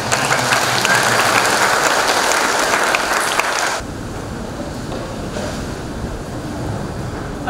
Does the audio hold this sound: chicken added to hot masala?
no